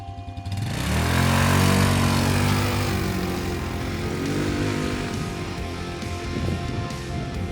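A cheap ATV quad engine while riding across open spring fields: after a quiet first moment the motor revs up loudly and holds a steady, buzzing drone that wavers slightly with throttle for the rest of the ride.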